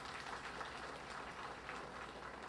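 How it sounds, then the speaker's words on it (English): An audience at a ministers' speaking event gives a round of applause, a faint, steady patter of many hands clapping that lasts a couple of seconds. "Let's give them a round of applause."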